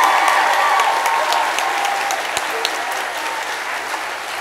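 A youth audience in Dublin applauds Michelle Obama at a Riverdance performance. A dense, even wash of many hands clapping runs the whole time, loud and sustained, with faint crowd noise underneath.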